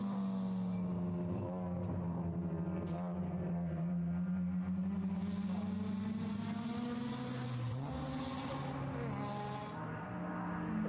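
Race cars circle the track at Virginia International Raceway during a club racing weekend, a steady loud engine drone with shifting pitch as several cars pass, continuous over the whole stretch.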